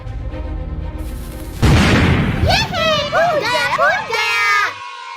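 A firecracker bursts with a sudden loud bang in a comedic street scene at a shop, followed by noisy, echoing crackle, then high, wobbling cartoon-like tones, with children's voices around.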